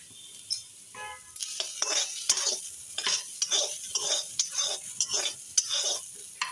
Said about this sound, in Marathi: आता त्याच कढईमध्ये मी एक कापलेला कांदा भाजून घेणार आहे.